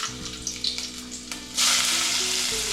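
Onion and curry leaves drop into hot oil in a pan for a tempering for a Malvani-style prawn curry. Soft clinks and low hum come first, then a loud, bright sizzle bursts up and holds steady.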